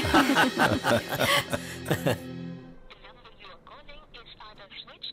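In a Hindi-dubbed film scene, voices and chuckling fill the first half, then a telephone rings on and on in a rapid, repeating electronic trill that goes unanswered.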